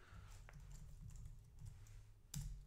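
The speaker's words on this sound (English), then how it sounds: "let's type in what we actually want to see." Faint typing on a computer keyboard while entering a watch expression in a code editor: a few soft, scattered key clicks over a quiet room hum, with one louder tap near the end.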